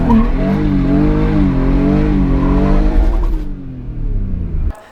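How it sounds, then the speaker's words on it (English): A car accelerating hard with its rear wheels hopping: a loud, close engine roar whose tone wavers and shudders throughout, then drops away abruptly near the end. "That was some nasty wheel hop."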